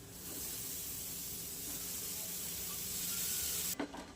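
Grated paneer and spices sautéing in a pan for paneer paratha, a steady soft sizzle and hiss close by, continuous and fairly quiet, with a brief clatter near the end.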